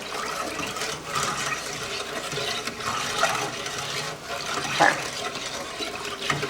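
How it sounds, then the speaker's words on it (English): A nylon whisk stirs liquid orange chicken sauce in a pot, giving a steady, close sloshing and swishing with faint clicks, continuous and without talk. "Let me get my whisk out because we're gonna start to whisk this around"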